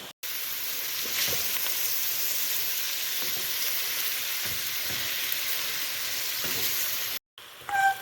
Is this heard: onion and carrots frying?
yes